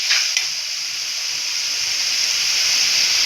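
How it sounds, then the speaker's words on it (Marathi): Mutton liver masala sizzles in hot oil in a pan, a steady bright hiss that stays even and fairly loud throughout, with no talking. "मसाला चांगला फ्राय झालेला आहे."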